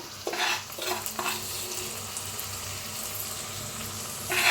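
A spatula scrapes and stirs turmeric, chilli, coriander powder and flour into a vegetable for tomato sambar, with a few close, loud strokes over a steady frying hiss and no speech.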